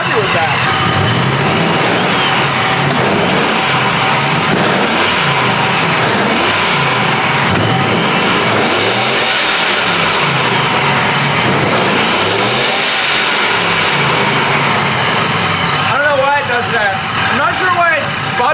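A supercharged pickup truck engine revs hard several times, rising and falling in loud, rough surges with a sputtering edge when the throttle is snapped open.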